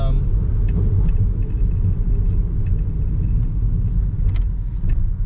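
Road traffic in Macau the day after a category 8 typhoon, with a steady, heavy low rumble of cars and engines passing close by and faint higher clicks and rattles scattered over the drone.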